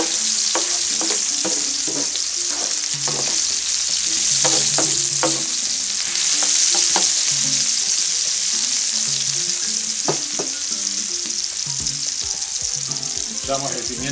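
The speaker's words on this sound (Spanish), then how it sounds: "Para que no se quemen los ajos, que no se nos queman." Garlic and anchovies sizzle and crackle steadily in a hot pan, with occasional scraping and stirring sounds, no talking.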